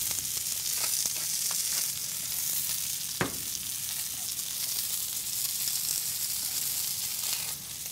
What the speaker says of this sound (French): Ici, aujourd'hui, on saisit un vitello, donc le filet de veau, qu'on va faire pour la recette.